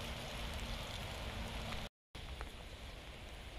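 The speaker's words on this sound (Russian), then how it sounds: "Мокнет дицентра под дождем" Steady May rain falls on garden plants, including bleeding heart, as a dense, even hiss close by, broken by one brief dropout midway.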